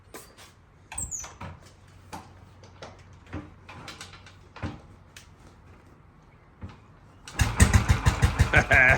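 A motorcycle being kick-started: a series of clacking kicks and mechanical clunks, then the engine catches near the end and runs with a loud, rapid, pulsing putter.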